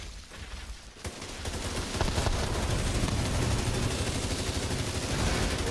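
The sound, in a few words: gunfire in a video game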